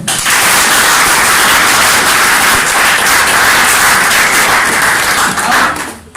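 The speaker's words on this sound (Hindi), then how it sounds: "एक जोरदार ताली हो जाए।" Loud, dense applause from a crowd at a hair oil product launch, a continuous roar of many hands clapping that holds steady before fading at the end.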